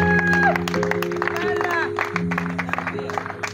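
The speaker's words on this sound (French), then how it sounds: "Est-ce qu'on peut applaudir très fort pour les témoins?" Applause from wedding guests at a civil marriage ceremony, honouring the witnesses: a dense, steady patter of clapping with some crowd noise, set against sustained tonal background sound, continuous throughout.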